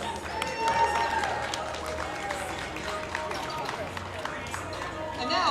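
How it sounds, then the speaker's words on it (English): Applause and crowd noise at a powerlifting provincial championship, a moderate wash of clapping mixed with chatter and voices from the audience, fairly even throughout. "Another round of applause for them, please."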